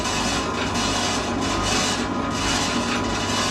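A GASTROMIX B20C planetary mixer runs at its second speed with a loud, continuous mechanical whir and low hum, its rubbing churn slowly swelling and easing in a steady cycle.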